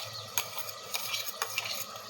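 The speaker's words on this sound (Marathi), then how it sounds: "त्याच्यात आपण आता तयार करून घेतलेलं वाटण, खोबरं, कोथिंबीर, लसूण, आलं, मिरची हे टाकून घेत आहोत व याला पण चांगलं तेल सुटूस तर परतून घ्यायचं आहे." Coconut, coriander, garlic, ginger and chili paste being stirred and sautéed in oil in a pan, with soft sizzling and a few sharp spoon scrapes and clinks against the pot.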